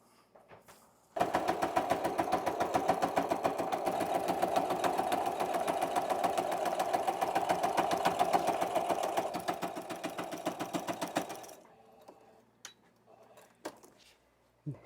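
A sewing machine runs one long, steady, loud seam along a quilt's sashing strip, its rapid even stitching rhythm going uninterrupted for about ten seconds before stopping, followed by faint handling noises.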